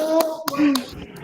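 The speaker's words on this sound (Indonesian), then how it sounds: "Boleh tepuk tangan dulu" A few scattered hand claps ring out in a classroom after a student's presentation on the creative industry subsectors, sparse and close, with voices murmuring alongside.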